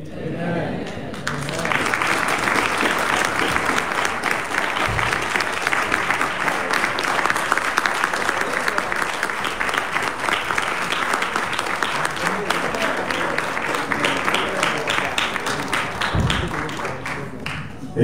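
Church congregation applauding after a prayer, a sustained, loud, dense round of clapping lasting throughout, with some voices mixed in.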